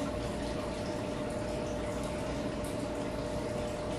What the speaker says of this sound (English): Add a splash of pineapple juice.